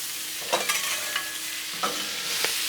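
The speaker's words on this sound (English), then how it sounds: "we want to grab our broccoli and add it in that butter" Broccoli fries in butter on a hot Blackstone griddle, giving a steady broad sizzle with a few quick scraping stirs, close and moderately loud, with no talking.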